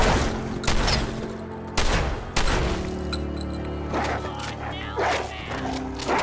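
Gunfire in the video game Fallout 4: repeated loud shots cracking out in irregular bursts, with a voice talking over parts of the exchange.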